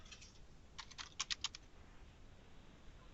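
Quiet keyboard typing on a computer, a short cluster of light, quick clicks in the middle of a mostly hushed stretch.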